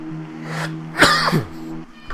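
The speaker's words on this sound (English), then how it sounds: "Sorry about the cough again." One abrupt, harsh cough bursts out over the steady, droning engine hum of an Audi Sport TT Cup car in the RaceRoom racing game, continuing underneath.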